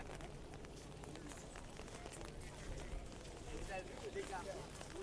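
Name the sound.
heavy rain with side wind at Horse Guards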